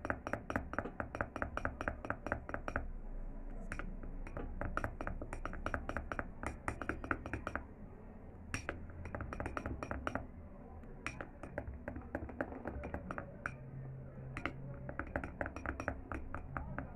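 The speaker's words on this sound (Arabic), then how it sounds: "بنقلب كويس كده لحد ما يندمج كله مع بعضه" A spoon stirring a flaxseed and rice cream mixture in a glass bowl, quick repeated clinks and taps against the glass in a steady rhythm with a few short pauses, close and fairly quiet.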